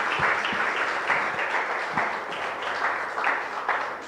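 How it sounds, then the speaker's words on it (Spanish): Church congregation applauding together after a youth reflection at a worship service, a steady, dense wash of many hands clapping with a few sharper individual claps standing out, continuous for the whole stretch without talk. "Démosle un aplauso a Dios por su gloria"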